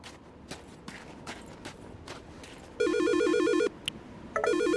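A phone rings in the video game Silent Hill: Shattered Memories, a loud electronic warbling ringtone that starts after a series of soft footsteps, stops briefly, then starts again.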